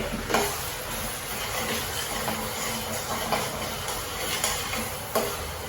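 Chopped onions fry in a pan for a baby potato masala, giving a steady, close sizzle and hiss with a few sharper stirring scrapes scattered through.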